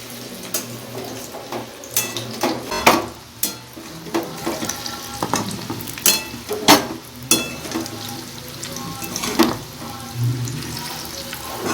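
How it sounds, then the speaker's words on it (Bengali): Prawn fritters fry in hot oil in a frying pan in a roadside kitchen, with a soft sizzle under repeated sharp clinks and scrapes of a utensil at irregular intervals. "এবার আমি একে একে ফুল চিংড়ির বড়াগুলোকে ভেজে নেব।"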